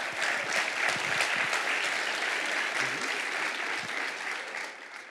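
An audience at the Hillsboro State of the City address applauds, a dense, loud burst of clapping that holds steady for several seconds and then starts to taper at the end.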